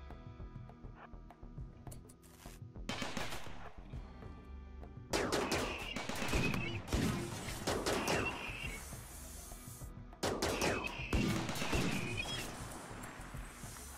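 Repeated gunfire and crashing impacts in a desert survival video game, arriving as dense clustered volleys over a busy, cluttered background, fairly loud throughout with brief quieter gaps.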